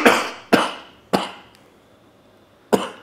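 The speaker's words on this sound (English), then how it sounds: "And there comes the vigorous cough." Four sharp, vigorous coughs from a man at a London interview, three close together in the first second and one more after a pause, each loud burst decaying quickly into a quiet room.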